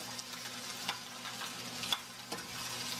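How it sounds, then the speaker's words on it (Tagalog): Potatoes frying in a pan for beef mechado, a soft steady sizzle with occasional sharper crackles and pops, close and fairly quiet, with no talking. "Iprito muna natin ang ating patatas."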